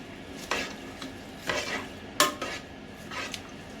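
Potato pieces with salt and turmeric are stirred in a pot, a spoon scraping and clinking in four or five soft separate strokes, close and fairly quiet, with no talking.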